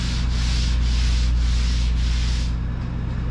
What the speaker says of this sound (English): we have to sand the whole fender to make a surface for the base coat to stick to the primer